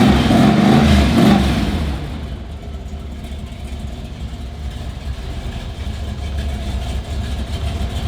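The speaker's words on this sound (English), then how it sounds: "we got the Shelby with a big block under the hood. This thing is beautiful. It's fast. It's loud." A Shelby's big block V8 engine roars loudly for the first second or so, then settles into a steady, rumbling idle that continues throughout, on a classic car lot.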